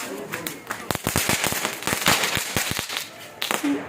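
Small firecrackers set off by a family at home for Diwali, a rapid run of sharp cracks and pops in quick succession, fairly close and loud, with faint voices in the background.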